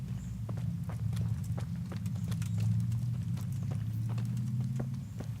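A horse's hooves clip-clop at a steady walking pace in the video game Kingdom Come: Deliverance, a clear rhythmic series of hoof strikes over a constant low rumbling background, with no speech.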